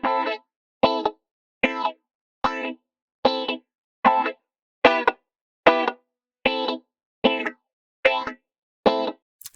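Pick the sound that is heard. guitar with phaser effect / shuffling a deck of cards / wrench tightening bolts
guitar with phaser effect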